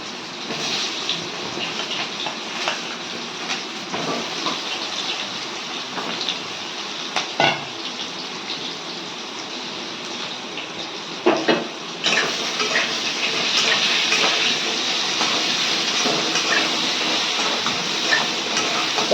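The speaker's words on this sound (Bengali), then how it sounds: "পটলটা ভাজতে দিলাম" Pointed gourd (potol) frying in hot oil in a home kitchen, giving a steady close sizzle with occasional utensil clinks, growing louder and denser partway through.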